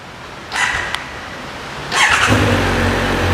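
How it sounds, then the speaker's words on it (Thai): A 2022 Triumph Speed Triple 1200 RS with its stock exhaust and low mileage gets two quick starter cranks close by. The second catches, and the engine settles into a deep, steady idle. "เดี๋ยวฟังเสียงท่อคันนี้กันครับ"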